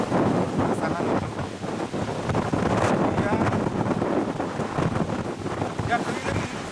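Strong wind blowing at Lake Toba, a steady roar buffeting the microphone with gusts throughout and a faint wash of water underneath.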